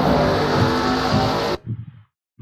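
Race cars in a stock car racing video game roar together under a dense, loud engine blend at a green flag restart, cutting off abruptly after about a second and a half, with brief low rumbles and quiet afterward.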